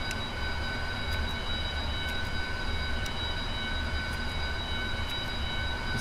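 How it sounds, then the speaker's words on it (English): Auxiliary power unit of a Boeing 777-200 parked at the gate in a flight simulator, a steady whining engine drone with constant high-pitched tones holding level throughout, no talking. "It's hot, so we'll leave the APU running for a little while."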